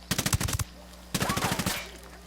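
Two rapid bursts of submachine gun fire in a tactical military video game, each about half a second of quick, evenly spaced shots, the second trailing off, fairly close with no talk.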